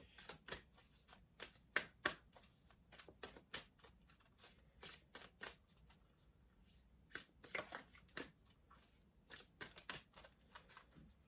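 Crisp, papery riffling of a Gateway of Light Activation oracle card deck being shuffled, a steady run of quick slaps and flicks with brief pauses, close and fairly quiet with no talking.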